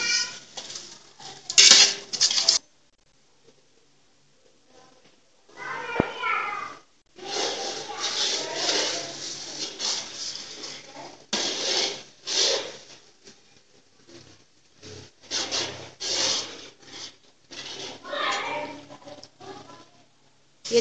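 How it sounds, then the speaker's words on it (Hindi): A large pot of masala with chopped tomatoes is stir-fried for a five-kilo chana pulao, giving bursts of loud, close metal scraping and clattering broken by quiet gaps, with a voice talking at moments. "अब इसका मसाला भुनेंगे जब तक टमाटर हमारे सॉफ्ट नहीं हो जाते"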